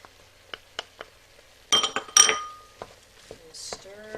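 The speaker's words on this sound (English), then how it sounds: "And stir that up." A spoon stirs garlic and softened onion in a metal pot while making chili con carne, giving a few separate clinks and then a louder burst of scraping and clattering. Faint speech can be heard in places.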